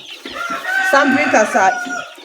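Layer chicks, about six weeks old, cluck and squawk loudly and continuously close by in a poultry house, several birds calling over one another.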